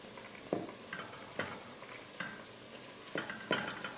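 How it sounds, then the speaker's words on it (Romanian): Cabbage goes into a pot of softened onions with irregular scrapes and soft clatters of stirring over a faint background sizzle, heard up close without talking. "acum începem să adăugăm varză"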